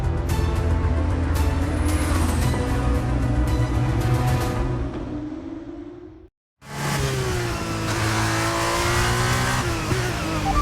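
In the F1 23 video game, a Formula 1 race car accelerates loudly on fresh tyres, its engine note climbing through the gears, cut off by a brief drop to silence before the roar resumes.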